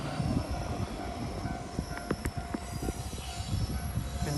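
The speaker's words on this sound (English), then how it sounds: "The train is coming." A JR local train arriving at a small rural station in southern Kyushu, Japan, with a steady rumble of wheels on rails, clacking joints and a faint squeal as it rolls in nearby.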